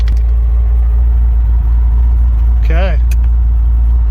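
An LS-swapped Nissan 240SX with a T56 transmission idles with a deep, steady rumble close by, while a person briefly speaks over the running engine.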